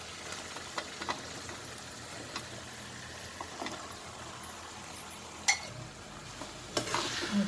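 Ridge gourd frying in oil-released masala for a Karnataka-style palya, a steady soft sizzle with intermittent spoon or spatula scrapes and clinks while it is stirred, moderately close, with no talking.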